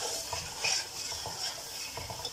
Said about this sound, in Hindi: तो यहाँ पे चिकन को भी भून लेंगे इस मसाले में, फ्लेम को तेज़ कर दिया।